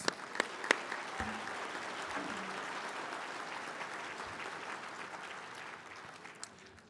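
Crowd applause at the Mille Lacs Band of Ojibwe State of the Band Address, a dense steady roar of many hands clapping that holds for several seconds, with a few sharper claps and faint calls near the start.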